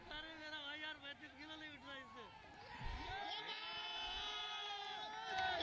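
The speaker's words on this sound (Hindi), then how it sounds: "देखिए सभी लोग खुश हो रहे हैं, ग्राउंड स्टाफ भी ताली बजा रहे हैं" Crowd at an outdoor weightlifting test for railway recruits cheering and shouting as ground staff clap, a steady lively din with voices rising and falling throughout.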